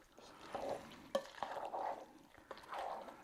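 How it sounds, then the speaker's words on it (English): Tomatoes being stirred in a pot, soft close swishing strokes in a slow uneven rhythm with a few light clinks of the spoon against the side, faint and with no talking. "Let's stir our tomatoes in just a little bit."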